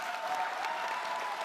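A campus event audience at UMass applauds steadily, a dense, even wash of many hands clapping that holds throughout without breaks, moderately loud and alone.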